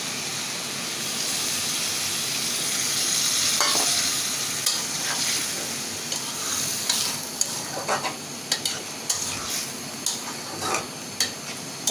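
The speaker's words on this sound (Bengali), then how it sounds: "আমি এখন একটু পানি দিয়ে দেব" Water is poured into a pan of sizzling radish, aubergine and dried kachki fish with shrimp, giving a steady hiss of frying and steam. Short stirring scrapes and clicks then follow up close.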